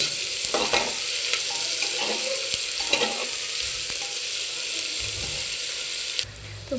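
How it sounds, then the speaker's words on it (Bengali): Onions frying in oil in a home kitchen pan for egg biryani, a steady broadband sizzle with scattered stirring clicks and scrapes throughout, fairly close, with no talking. "পেঁয়াজটা দিয়ে ভালো করে একটু ভেজে নিচ্ছি"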